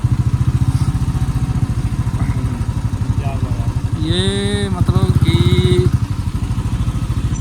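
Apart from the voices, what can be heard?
motorcycle riding on mountain road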